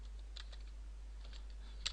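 Sparse keystrokes on a computer keyboard while entering C# code, a few soft clicks scattered across a quiet background and a short burst near the end, with no talking.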